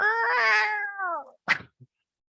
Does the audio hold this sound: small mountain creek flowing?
no